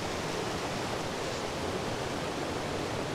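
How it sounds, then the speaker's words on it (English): The River Yarrow runs over a small series of rapids, a steady, even rush of flowing water that stays soft and constant throughout, with no voices. "Another small series of rapids"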